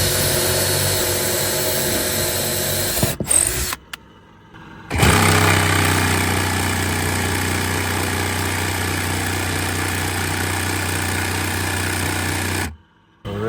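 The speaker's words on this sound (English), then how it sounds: "I'm gonna drill some holes and basically connect it with a jigsaw and the drill right there" A power drill and jigsaw buzz loudly and steadily up close, cutting holes for a sink, briefly stopping and restarting, with a harsh rattling cutting tone.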